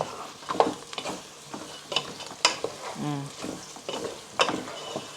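Pork ribs and pompano frying in a pan, a steady soft sizzle broken by scraping stirs and light utensil clinks against the pan, close and fairly quiet.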